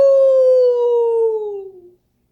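A voice imitates a wolf howling at the moon: one long, loud, sustained tone that slides slowly downward and fades out over about two seconds, heard alone.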